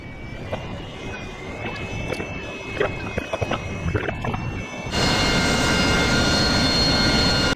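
AV-8B Harrier jet engine in DCS World during a vertical VTOL landing, a steady roaring whine with tonal whistles that jumps abruptly to a louder, dense sustained roar partway through, with no talk.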